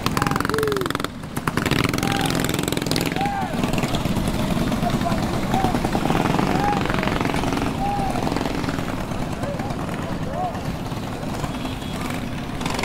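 A large group of 100-plus mini bikes rides through downtown Los Angeles, a dense, continuous buzz of many small engines with rising and falling whines, loud and close, while voices talk over the din.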